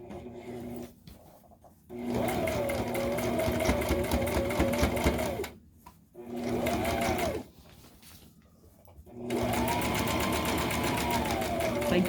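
Sewing machine top stitching pink thread on a backpack, running in three steady, loud humming bursts with short pauses between them.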